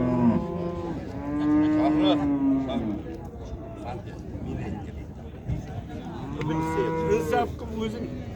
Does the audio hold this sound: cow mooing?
yes